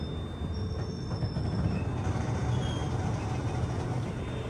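A passenger train bound from Visakhapatnam to Varanasi rolls along in a dense, constant rumble, with a faint high squeal from the wheels over steady track noise.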